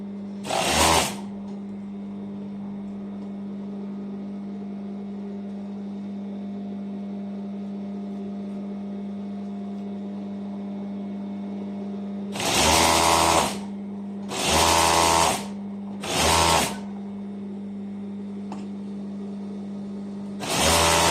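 An overlock sewing machine stitches trouser seams in several short, loud bursts of rapid whirring: one at the start, three in quick succession later and one at the end, separated by a steady low hum.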